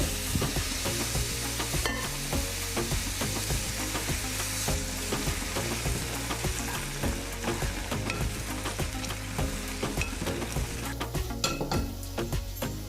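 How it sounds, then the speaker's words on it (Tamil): Steady, loud sizzling and bubbling as boiling water is poured into semolina in a pan, with faint stirring and scraping throughout. "2 கப்பு தண்ணி கொதிக்க வச்சு இதில் ஊற்றிடலாங்க"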